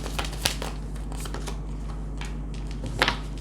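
Tarot cards are shuffled by hand in short crisp riffles, one quick burst near the start and a louder flurry toward the end, heard close up against a faint steady hum with no speech.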